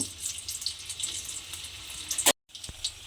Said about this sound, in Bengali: পনিরগুলো আমি এর মধ্যে দিয়ে পনিরগুলোকে একটু ব্রাউন করে ভেজে নেব